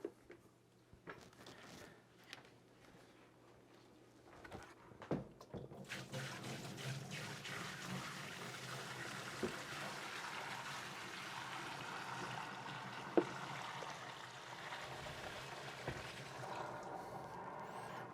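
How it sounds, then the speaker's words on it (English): Dirty black mop water from cleaning a floor is poured out into a sink, a steady close splashing rush of water that builds after a few seconds and runs continuously to the end. "we'll move the camera over to the sink and we'll dump out the black water."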